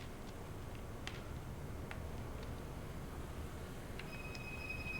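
An ICE1 high-speed train on an empty stock move pulls into Burgsinn station in Train Sim World 3, a steady low rumble of rolling stock with faint clicks and a brief high whine near the end.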